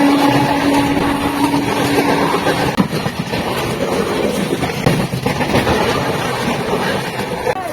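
An Adra-Asansol MEMU train starting to leave a station, a loud steady rumble with a sharp clank and rising mechanical drone, no voices.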